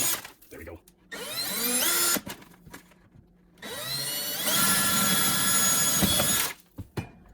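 Power drill boring holes in a wall to mount a microwave bracket, two loud whining bursts with rising pitch separated by brief pauses, then short rattling handling sounds.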